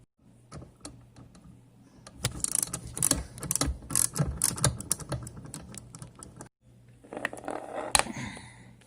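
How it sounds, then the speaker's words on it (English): A ratchet with a 1/4 inch socket works a nut loose on a dishwasher's electrical cover, giving quick bursts of close clicking that stop and start in a quiet room. "We got to take this nut off here, which we're going to be using the 1/4 inch socket to do."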